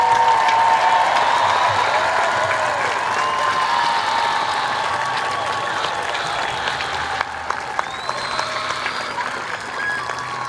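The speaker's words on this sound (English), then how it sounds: "Please give all of our seniors a rousing round of applause." Audience applause for graduating seniors at a high school graduation ceremony, steady broadband clapping across the full length with light crowd noise and a few sharper claps near the end.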